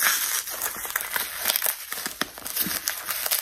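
Gift wrapping paper crinkles and rustles continuously while a parcel is opened by hand, with irregular crackling bursts heard up close and no talking.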